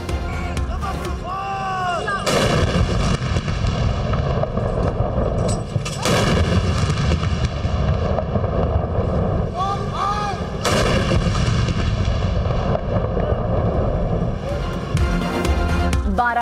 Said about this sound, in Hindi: मुल्क भर में दिन का आगाज तोपों की सलामी से हुआ।